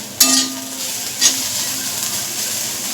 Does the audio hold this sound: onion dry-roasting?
yes